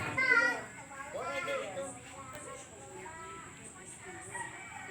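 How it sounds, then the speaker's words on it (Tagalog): A rooster crows in a rural barangay setting, the call rising clearly at the start and trailing off, with children's voices and people talking nearby throughout. "may manok."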